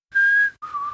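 A voice imitates an old man's eerie whistle, two sustained whistled tones, the first steady and the second lower and wavering, close and clear with no talk.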